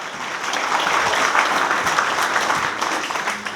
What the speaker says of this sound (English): so please give Aramark staff a round of applause